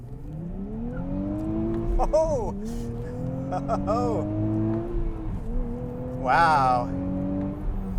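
A 400 hp Nissan Z sports car with a manual gearbox accelerates hard, its engine note climbing through several gears with brief dips at each shift, loud and close from inside the car, with a short exclamation from a person.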